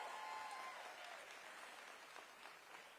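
Faint audience applause at a labor movement rally, a steady wash of clapping hands heard from a distance for a few seconds.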